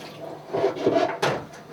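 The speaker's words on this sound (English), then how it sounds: "drain the water out again." Washed rice and beans in a pot have their rinse water poured off while making a Vietnamese breakfast, giving a short splashy gush of draining water that swells and fades over about two seconds.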